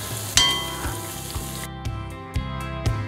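A potato-masala-stuffed bread samosa, just flipped, fries in hot oil with a close, steady sizzle that carries on under regular pulsing beats.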